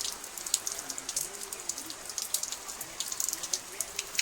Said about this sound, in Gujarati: ઝરમર વરસાદ ચાલુ થઈ જશે ને અત્યારે ધીમી ધારે વરસાદ પડે છે